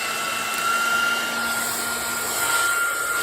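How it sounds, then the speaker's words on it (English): A handheld blow dryer runs continuously up close while drying paint on a gel printing plate, giving a steady loud whirring hiss with a high motor whine and no speech. "All right, blow dryer again"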